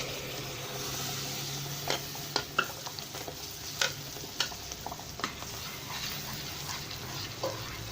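Tomatoes stirred and frying in a pan for tomato soup, a soft low sizzle under a scattering of light scrapes and taps from the utensil against the pan, fairly quiet with no talk.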